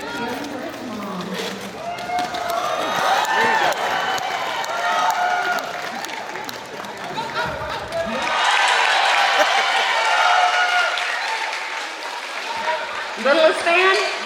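A roller derby crowd at a county fairgrounds cheers and applauds, a sustained roar of voices and clapping that swells louder partway through, with a loud announcer talking over it.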